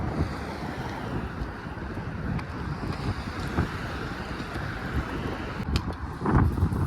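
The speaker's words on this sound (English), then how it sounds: "It's windy." Strong wind gusts across a downtown Manitoba street, heard as a loud buffeting roar on the microphone that rumbles steadily and swells near the end, with no voices.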